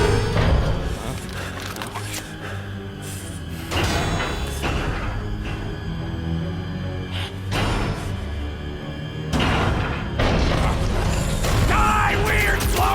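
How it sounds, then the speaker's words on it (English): Mechanical whirring and clattering from a swarm of old cleaner bots in a sci-fi video game, dense layered metallic noise with periodic whooshes and thumps, steady and fairly loud throughout. "It's a swarm of old cleaner bots."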